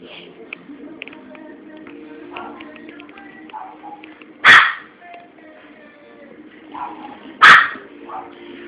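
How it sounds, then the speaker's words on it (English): A dog barks twice, a few seconds apart, each bark short and sharp, cutting through a steady indoor background of faint clicks and room noise. "And my dog's barking like crazy."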